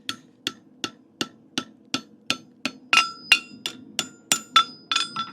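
A smith hammers a toe bend into a horseshoe on an anvil, about fifteen sharp ringing blows at a steady brisk rhythm, close and loud, the later strikes ringing brighter.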